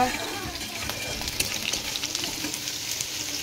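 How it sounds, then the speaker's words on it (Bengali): Onions fry in oil amid cooking for a school party, a steady hiss of sizzling with occasional clinks and stirring scrapes near at hand. "পেঁয়াজ ভাজা হচ্ছে"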